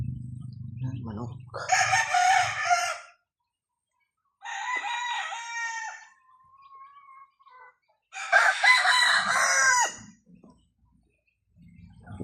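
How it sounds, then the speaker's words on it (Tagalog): A rooster gives repeated loud, close crowing calls, each lasting a couple of seconds, separated by quieter pauses with softer clucking and low background sounds. "Manok."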